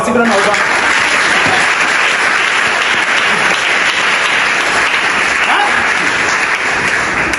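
A church congregation applauds in praise, a dense steady wash of clapping filling the whole stretch at an even loudness, with voices mixed faintly underneath.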